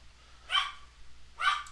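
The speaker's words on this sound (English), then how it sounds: "Sorry about the dog." A dog barks twice, about a second apart, at moderate distance, over a low background hum in a quiet indoor room.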